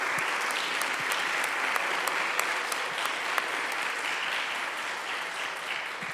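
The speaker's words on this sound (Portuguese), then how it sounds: "eu queria te convidar a dar um forte aplauso para cada voluntário que tem tornado" An indoor church audience applauds volunteers with sustained, even clapping from a large crowd, a few sharp individual claps standing out over the dense wash of sound.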